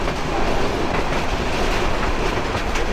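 The Kishoreganj Express intercity train runs after leaving Kamalapur station in Dhaka, with a loud, continuous rumble and a steady clickety-clack of wheels heard from on board, with no voices.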